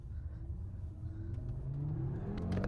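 A small car accelerates hard, its mid-pitched engine note rising steadily in pitch as it revs up, heard from inside the cabin with a faint rumble beneath and no talk.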